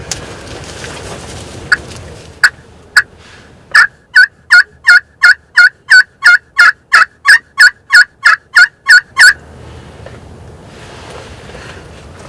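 A wild turkey gobbles in a long, rapid series of sharp, loud calls that build into a steady rhythmic burst of around twenty, ringing clearly over quiet wind and outdoor background.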